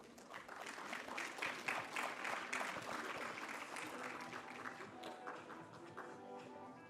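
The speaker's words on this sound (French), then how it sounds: "Et son équipe, on peut les applaudir." An audience at a project presentation event applauds a team, with crowd clapping swelling for a few seconds and then thinning out as a faint musical tone lingers underneath; the whole scene sounds quiet and somewhat distant.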